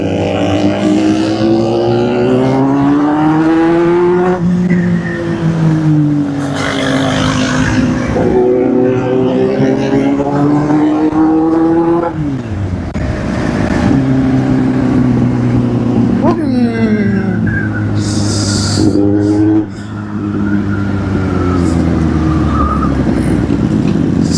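Kawasaki, Hyosung and Dominar motorcycles race, their engines revving hard and rising and falling in pitch through repeated gear changes, loud and close, with voices talking over the roar.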